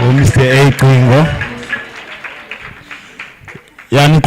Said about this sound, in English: can you please clap hands for Mr.